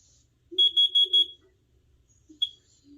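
A FireX 6040 carbon monoxide alarm sounds its test: four rapid, sharp electronic beeps in quick succession, then a single short beep after a pause, close and clear in a quiet room.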